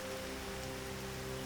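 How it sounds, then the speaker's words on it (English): Tropical rain shower in southern Africa during the rainy season, a steady dense hiss of falling rain under a low tonal music bed. "As tropical showers are hardly pleasant"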